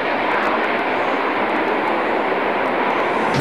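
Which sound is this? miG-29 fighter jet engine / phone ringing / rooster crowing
miG-29 fighter jet engine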